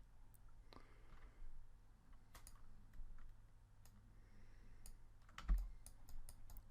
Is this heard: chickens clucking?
no